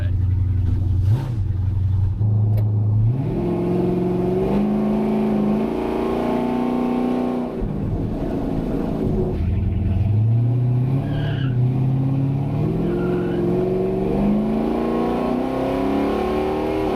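A Ford F250 truck engine with a freshly rebuilt carburetor revs and accelerates through the gears. Its pitch climbs in repeated surges between shifts, loud and close.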